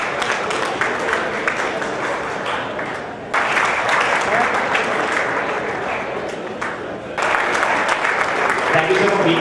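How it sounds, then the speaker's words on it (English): Audience applause fills a conference hall at an academic event, a dense, steady clapping that dips briefly around the middle and then surges back at full strength, with a faint voice underneath near the end. "Can a clap be coming?"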